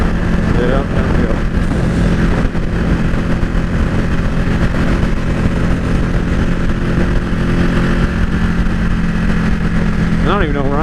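A motorcycle rides along a road, its engine droning steadily and loud for the whole stretch, with a rising whine near the end.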